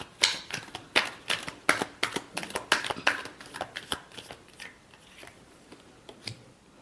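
Tarot cards are shuffled by hand in a quiet room, a quick run of crisp riffling snaps and taps that slows and thins toward the end, with no talking.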